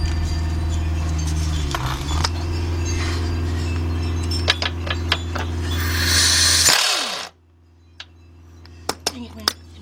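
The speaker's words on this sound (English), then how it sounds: "Get our air gun up under here." An air impact gun drives Torx bolts on the rack and pinion of a 2001-2005 Cadillac DeVille, loud sustained whirring bursts over a steady compressor-like drone, then stopping, followed by a few sharp metallic clicks and taps.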